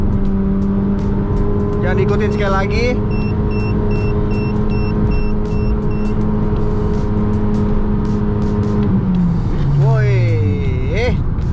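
Honda Jazz GK5 engine accelerating from inside the car, a steady low drone with pitch sweeps as revs rise and shift, while someone talks over it.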